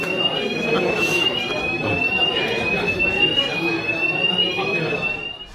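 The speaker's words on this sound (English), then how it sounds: "Fire alarm's going off" A fire alarm sounds continuously with a high, steady electronic tone over a noisy outdoor winter fishing match scene, while people talk underneath throughout.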